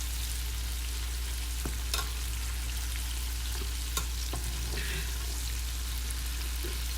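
Onion bloom petals fry in hot oil with a steady, dense sizzle and crackle, punctuated by a few sharp pops and light scraping as the petals are separated, close and continuous with no talking.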